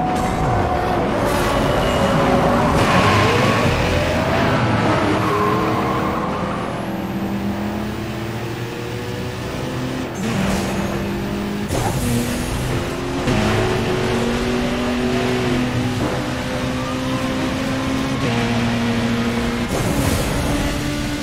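Racing cars in Burnout Paradise roar continuously, engine pitches climbing and dropping through gear shifts, with passing whooshes and impacts over a sustained loud drive and no talking.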